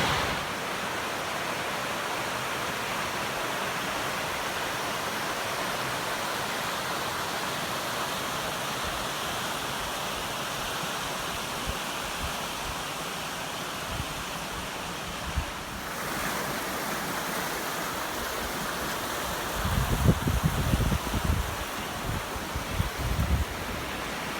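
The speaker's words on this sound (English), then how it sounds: "Nice to have the water, sound of the water while we're hiking now." A river's continuous rushing water fills the scene with a steady broadband roar, joined near the end by low rumbling thumps like wind buffeting the microphone, on the Appalachian Trail in Connecticut.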